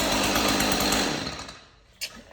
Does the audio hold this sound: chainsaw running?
yes